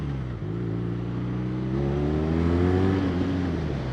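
A 2016 BMW R Nine T motorcycle pulls away under a strong throttle twist, its engine note climbing steadily in pitch through a gear, close and fairly loud with wind rush behind it.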